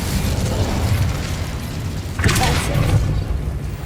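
Fire spell cast in the video game Hogwarts Legacy, a sustained roaring, crackling blast that swells sharply midway with a burst of bright hiss, over a steady low game rumble.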